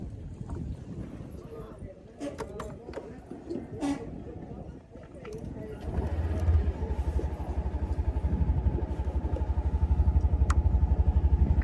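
A motorcycle rides along a coastal road near Bang Sare, Sattahip, Chonburi, its steady engine drone rising after about six seconds, with wind buffeting the microphone and someone talking over it.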